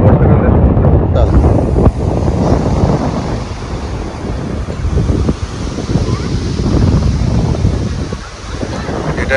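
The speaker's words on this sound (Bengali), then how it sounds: "বর্ষাকালে সমুদ্র উত্তাল।" Rough monsoon sea at Mandarmani beach, heavy surf roaring continuously close by with strong wind buffeting the microphone.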